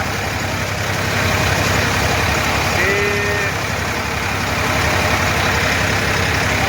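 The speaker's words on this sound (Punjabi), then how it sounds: "ਦੇਖ ਲਓ ਟਰੈਕਟਰ ਦਾ ਅੱਧਾ ਅੱਧਾ ਟਾਇਰ ਲੰਗੀ ਜਾਂਦਾ ਵਿੱਚ" A tractor churns through a flooded, muddy paddy field with its tyres half sunk, its engine a steady, loud, low drone that runs throughout, with a brief squeaky tone in the middle.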